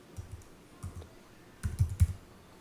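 Keys clack on a computer keyboard in a few quick, soft bursts, close and fairly faint, with a small flurry of taps near the end.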